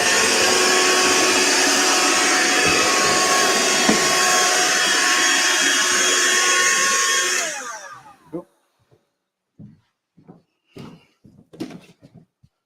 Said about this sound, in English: I'm just going to go over the line with the vacuum, so it'll be a bit noisy when it goes.